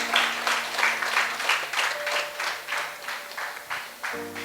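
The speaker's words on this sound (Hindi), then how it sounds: "अपने आप के लिए ताली बजाओ" Audience members at a Hindi Christian sermon clap together, producing a steady, rhythmic burst of applause that continues for several seconds before fading at the end.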